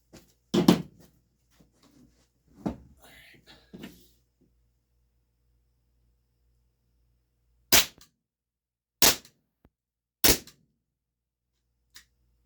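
Walther PDP Compact T4E CO2 pistol firing, three sharp isolated cracks several seconds apart after some earlier handling clatter, each loud, short and dry against near silence.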